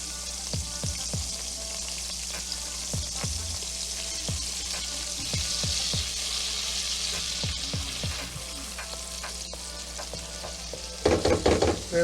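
Garlic frying in hot butter and oil for eggs Florentine, a steady loud sizzle with a few soft stirring taps, then a brief burst of crackle near the end, no talking.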